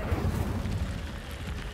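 A fire spell blast cast in the video game Hogwarts Legacy gives a loud, rumbling whoosh that stays low-heavy and steady for under two seconds, with no voices over it.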